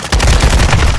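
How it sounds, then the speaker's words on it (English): Loud, dense gunfire in a video game firefight, a continuous rattle of rapid shots filling the whole moment. "You're taking effective fire."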